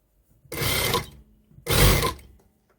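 A sewing machine stitching in place on fabric cut from long pants, two distinct whirring runs of about half a second each, close and fairly loud, separated by a brief pause.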